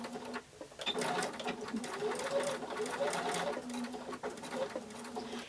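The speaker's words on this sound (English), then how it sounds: "I'm going to fold this in half to make my little half stem, and then I'm just going to stitch all the way around." A sewing machine stitches around a small folded felt pumpkin stem, its needle pattering in quick, uneven bursts that start and stop as the tiny curve is guided, close by and moderately quiet.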